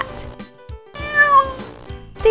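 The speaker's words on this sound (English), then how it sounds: "This is a cat." A house cat gives several short, close meows, with a longer whining cry in the middle and quick breaks between calls, heard alone without speech.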